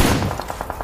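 Continuous glitching gunfire in a video game, rapid evenly spaced shots about ten per second after an initial burst, loud and unbroken.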